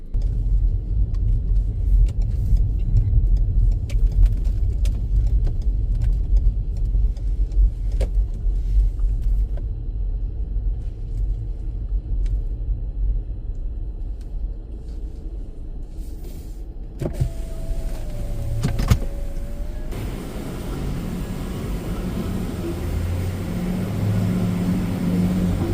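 Automatic tunnel wash machinery at GO! Car Wash on Base Line St. in San Bernardino working over a car, a steady low rumble heard from inside the vehicle with a brief whining motor tone and swishing near the end.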